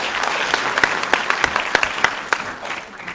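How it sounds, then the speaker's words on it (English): An outdoor crowd at a genocide remembrance program on Shark Island in Lüderitz, Namibia, clapping in a sustained burst of applause with sharp individual claps standing out, fading slightly toward the end. "Can we give them a hand of applause?"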